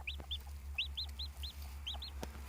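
Newborn chicks peep in short, high, rising-and-falling chirps, several in quick succession, close by over a low steady hum with a couple of faint knocks in the background.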